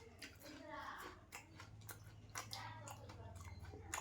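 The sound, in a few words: chewing a fried tilkor leaf fritter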